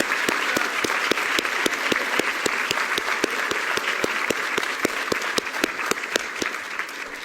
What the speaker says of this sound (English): Let's give a big hand of applause for all our students.